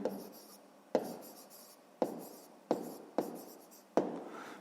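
Chalk or pen writing during a sixth-grade math lesson on temperatures, six sharp strokes each starting with a tap and trailing off into a scratchy rub, fairly faint and close, with no voices.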